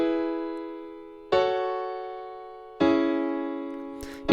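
Simple beginner chord progression on a sustained, piano-like instrument: three clean chords struck one after another, each ringing out and slowly fading before the next, ending with a faint noisy burst.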